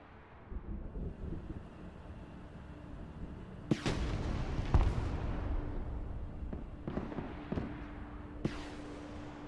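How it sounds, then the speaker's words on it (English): Missile launches in a modern real-time strategy game, a run of sharp broadband bursts and whooshing blasts over a steady rumbling battlefield bed with low tonal hum, several distinct impacts spaced a second or so apart. "Missiles going."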